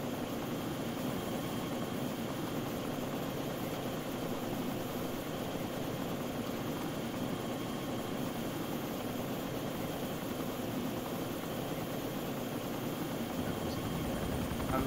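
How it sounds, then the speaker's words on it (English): A steady, droning helicopter engine in a video game hums continuously with a broad noisy whir and no voices. "I'm in a helicopter."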